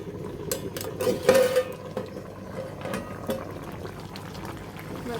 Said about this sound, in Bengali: তরকারিতে বলক চলে আসছে